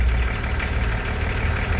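A Volkswagen LT40 van engine runs steadily at idle, a low rumbling chug heard close up with no voices.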